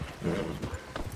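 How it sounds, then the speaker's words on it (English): Horse hooves clop in a quick, close burst in the Red Dead Redemption 2 video game, with a faint voice in the background and no clear whinny. "Hey, control that horse!"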